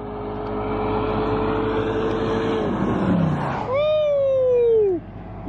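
Loud pickup truck engines, including a Ram TRX, roar past close by at a night drag race, then a high revving whine climbs and falls as they race through, with a crowd faintly under it.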